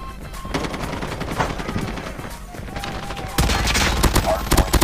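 Rapid automatic gunfire in Call of Duty Mobile, dense bursts of shots that grow louder and sharper near the end, with a player's voice talking over the fire.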